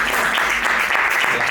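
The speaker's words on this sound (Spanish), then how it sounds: "así que también un aplauso" A short, dense burst of audience applause at a talk and debate panel, steady and loud from start to finish, like a packed room clapping together.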